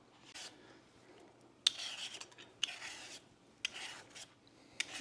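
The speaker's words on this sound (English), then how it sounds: "First things first, we're gonna peel these potatoes and boil them up" Potatoes being peeled by hand for homemade tater tots, with quiet scraping rasps arriving in short separate strokes, a few sharper clicks among them, heard up close in a calm kitchen without talk.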